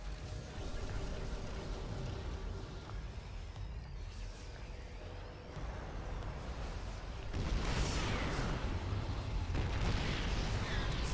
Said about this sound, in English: Siege tanks firing.